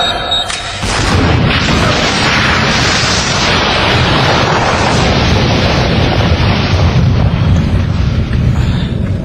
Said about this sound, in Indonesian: Sekarang ledakan.